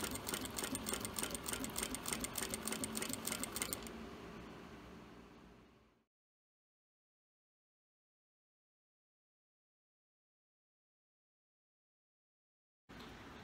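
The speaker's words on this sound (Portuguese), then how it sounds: "eu vou conseguir fazer uma costura de pesponto bem bonita em toda a margem" A sewing machine topstitches along the edge of a synthetic leather wallet in a rapid, steady run of close stitching for about four seconds, then winds down into silence.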